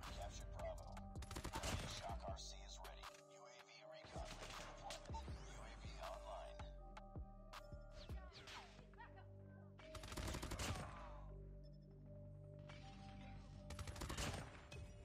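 Rapid bursts of gunfire from Call of Duty Mobile, a low-mobility PDW build, crackling in repeated volleys across the whole stretch at moderate loudness, with brief gaps between strings of shots.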